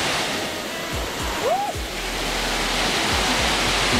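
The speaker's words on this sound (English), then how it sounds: "Nice Waterfalls people. Nice. Very beautiful place." A Jamaican waterfall rushes as a steady, broadband roar that fills the whole clip, with a faint whistle-like tone rising briefly in the middle.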